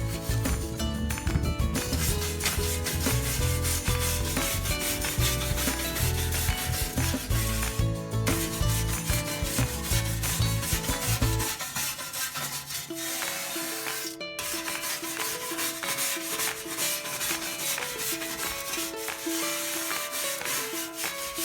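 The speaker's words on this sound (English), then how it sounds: "grab a wire brush and use it to scrub away any remaining debris, rust, or loose particles from the steps" A wire brush scrubs rust off metal RV steps in continuous, rapid back-and-forth strokes, a loud harsh rasping that carries on throughout, with no talking.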